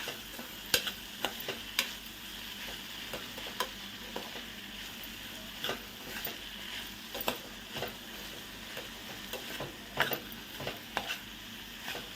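A papaya curry being stirred in a sizzling pan with turmeric, salt, ginger, garlic and green chilies: steady frying hiss broken by repeated scraping and clinking stir strokes, close and continuous, no talking.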